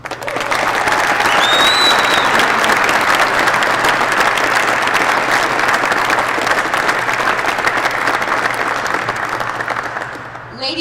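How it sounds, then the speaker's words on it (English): An audience at an Army aviation best squad and drill sergeant of the year award ceremony applauds, a loud, sustained, dense wash of many hands clapping for about ten seconds before tapering off. "please join me in another round of applause for the United States Army Aviation Center of Excellence and Aviation of Missile Command, Drill Sergeant."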